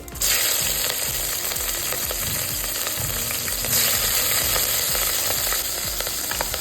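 Green chillies and curry leaves frying in hot oil for korra (foxtail millet) khichdi, a loud, steady sizzle with crackling pops and occasional stirring scrapes.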